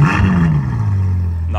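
Car engine firing up, a loud close roar that settles into a deep steady idle within about a second.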